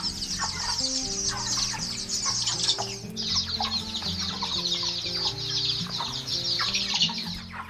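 Chickens and chicks in a broiler hatchery, a dense chorus of high chirping from many chicks over steady clucking from adult birds, heard up close with no talking.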